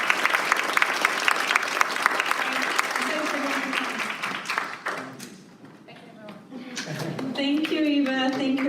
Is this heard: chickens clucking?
no